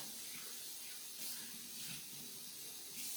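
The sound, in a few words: rinsing out a dish under running tap water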